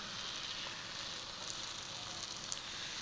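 Kolhapuri puran poli (tel poli) laid on a medium-hot oiled tawa, giving a steady, even sizzling hiss that runs without a break and with no voices.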